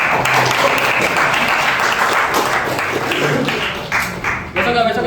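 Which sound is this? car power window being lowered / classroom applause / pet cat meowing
classroom applause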